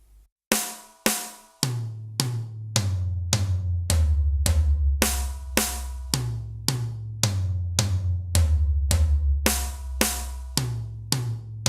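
A steady eighth-note pattern played on a drum kit, the right hand keeping even strokes over a few bass-drum and snare hits, close and clear with no talking.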